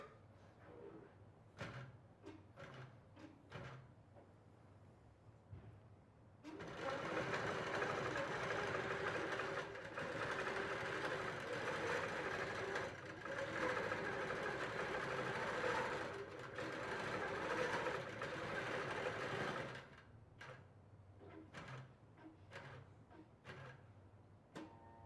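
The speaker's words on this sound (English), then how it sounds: "I'm just going to go ahead and click sew, and the automation will kick in and start that design for us." A computerized quilting machine runs an automated stitching design, a loud steady mechanical whir that starts abruptly after scattered handling clicks, holds for about thirteen seconds, then stops, leaving light clicks and taps.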